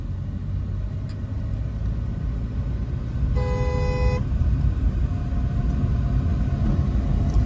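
A car engine rumbles steadily while driving during a driving lesson as the learner shifts into second gear, with a brief tonal horn-like toot partway through and no talk over it.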